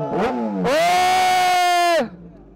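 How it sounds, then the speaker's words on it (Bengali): A Suzuki Hayabusa motorcycle engine gives one loud, steady, tonal rev lasting about a second and a half, rising in and dropping away at the end, with a brief voice just before it. "সাউন্ড শুনতে হবে বাইকটা"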